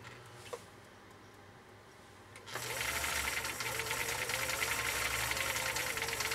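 A vintage green Husqvarna sewing machine starts up after a quiet moment and stitches steadily, its motor whirring with a rapid, even mechanical rattle.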